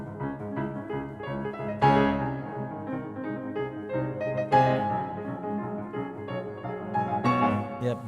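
Beethoven's Moonlight Sonata, third movement, played on piano: dense, agitated runs with sharp accented chords striking every few seconds, moderately loud and continuous with no talking.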